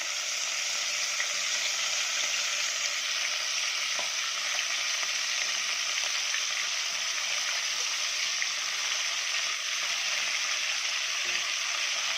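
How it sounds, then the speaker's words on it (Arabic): Meat frying in hot oil in a pan for an okra and meat dish, a steady bright sizzle with occasional crackles and pops, close and continuous with no talking. "الزيت سخن، هننزل باللحمه معانا"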